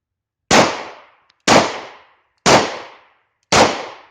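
A German P.08 Luger pistol fired two-handed: four sharp, loud shots at an even one-second rhythm, each cracking out and decaying quickly into silence.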